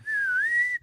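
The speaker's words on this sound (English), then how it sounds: "I can't whistle." A person attempts a whistle, producing one short, thin, wavering tone that lasts under a second and stands alone without speech.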